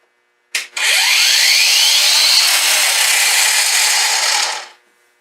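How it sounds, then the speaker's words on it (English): A Hychika 20V battery-powered angle grinder spins up with a soft start and runs loud and steady for about four seconds on its own, its whine rising as it reaches speed, then cuts off abruptly. "Battery powered angle head grinder."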